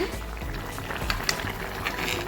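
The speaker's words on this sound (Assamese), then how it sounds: "আমাৰ মাংসখিনি পূৰা উতলি আছে আৰু সিজিলেও" Chicken meat bubbling in a pot while cooking, Assamese-style boiled chicken, a soft steady simmer with light pops and a few small clinks, close by and without talking.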